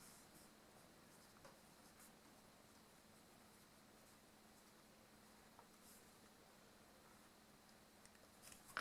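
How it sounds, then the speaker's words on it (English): A formula being written on paper gives quiet, continuous pen scratching and tapping in a still room, with a few louder taps near the end. "And we write down the formula."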